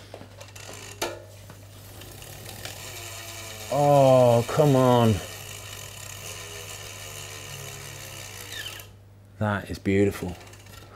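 The freehub of a Zipp 454 bicycle wheel on a Specialized S-Works Tarmac SL7 road bike ticks in a rapid ratcheting buzz as the wheel is spun. The ticking runs under brief excited speech and returns near the end.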